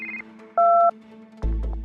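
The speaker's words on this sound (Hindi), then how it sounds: "तभी आलिया को मेहुल का कॉल आता है।" A short electronic phone tone in a cartoon, two steady beeps held for a moment, followed by a louder burst of buzzing ring tone starting abruptly.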